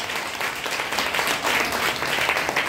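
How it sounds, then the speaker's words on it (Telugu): An audience at a church gathering claps loudly and continuously, a dense, sustained wash of applause that fills the whole stretch with no pauses. "గట్టిగా గట్టిగా చప్పట్లు కొడతారా?"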